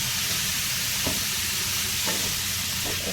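A spoon stirs salt into a frying cucumber and dried prawn curry in a pan, soft scraping strokes over a constant loud sizzle and hiss, with no talking.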